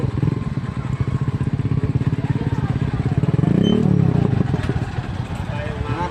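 Three motorcycles ride a raft across the river at Daraitan, their engines chugging in a rapid, steady putter close by that swells briefly midway, with voices talking over it.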